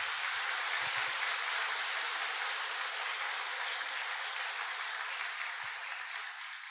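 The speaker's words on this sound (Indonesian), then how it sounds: "So, kita kasih tepuk tangan yang paling meriah untuk upline-upline kita semua." Applause from an audience at a seminar, a dense, faint wash of many hands clapping at once, steady for several seconds and tapering slightly near the end.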